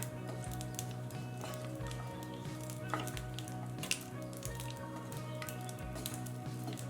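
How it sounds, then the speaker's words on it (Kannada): Green chilies roasting in a pan over a low flame give a steady, soft sizzle with faint crackles and a couple of small pops, close by with no talking. "ಲೋ ಫ್ಲೇಮ್ ಇಟ್ಕೊಂಡು ಈ ಹಸಿಮೆಣಸಿನ್ಕಾಯಲ್ಲಿ ಏನಾರ ನೀರಿನ ಅಂಶ ಉಳಿದಿದ್ರೆ ಸ್ವಲ್ಪ ಬಾಡಿಸ್ಕೊಳ್ಳೋಣ"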